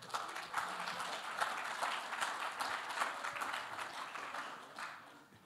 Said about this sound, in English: Okay, big applause for Devine.